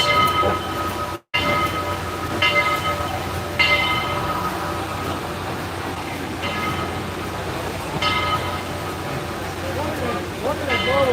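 A Southern steam locomotive at the Tennessee Valley Railroad Museum rumbles past with loud, continuous rolling and clanking. A horn sounds with sustained tones over it, and people's voices are heard nearby.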